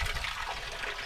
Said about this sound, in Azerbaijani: Həyat üçün burada balaca bir bulaqdır